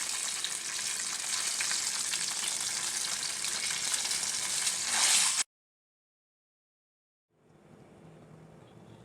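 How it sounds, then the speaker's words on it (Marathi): Eggs fry in a pan for egg curry with a loud, bright, continuous sizzle that cuts out abruptly, then a quieter sizzle returns after a couple of seconds of silence. "अंडे थोडं फ्राय करून घ्यायचं आहे."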